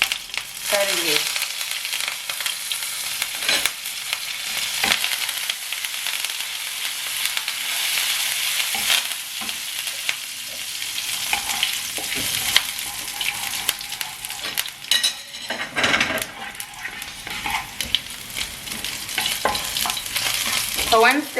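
Green chilies and curry leaves frying in a pan for lemon rice, a loud crackling sizzle with spattering pops and occasional stirring scrapes, close and continuous.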